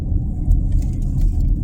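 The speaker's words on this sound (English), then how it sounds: "traffic is thick out here" Car traffic on a congested road in Harlan, Kentucky, before a snowstorm, a close, steady low rumble of engines and tires with slight surges.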